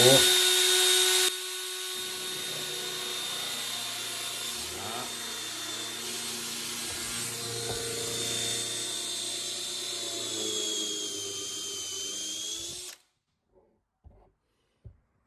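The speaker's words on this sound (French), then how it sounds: "Je change de fraise sur la visseuse, je mets la fraise qui correspond en termes de diamètre" A cordless drill-driver fitted with a 10 mm bit bores into wood, whirring steadily for several seconds with shifting pitch as it cuts, then stops abruptly, leaving a few faint knocks.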